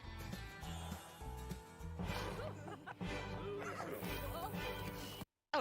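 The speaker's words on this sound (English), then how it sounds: "horses are coming to The Sims 4 in the newest expansion pack" A horse whinnies over busy music and effects, with clip-clopping hooves and some crashing, from a promotional reel for The Sims 4 horse expansion pack; a brief voice is mixed in.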